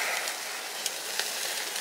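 Chicken legs sizzle steadily on a grill, a bright, crackling hiss with small pops scattered throughout, close and continuous, with no talking.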